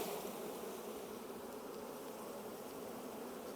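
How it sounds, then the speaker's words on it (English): Honey bees buzz in a dense, continuous drone around an open hive being split, a steady, fairly soft hum with no voices. "Wow, look at the bees"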